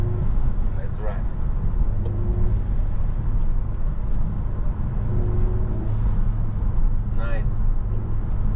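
Peugeot 308 GTI 1.6 turbo engine heard from the passenger seat during sporty driving, a steady droning hum with brief rising revs, while people talk over it.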